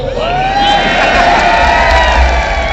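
A large crowd at a 2022 political rally in Mansa, Punjab, roars and cheers loudly and continuously, with whoops and shouts rising above the din.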